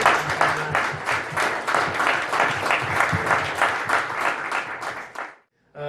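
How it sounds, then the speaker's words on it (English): Audience applause at a VR festival VIP reception, a steady wash of many hands clapping close and loud for about five seconds before cutting off. "I ask that you all applaud them"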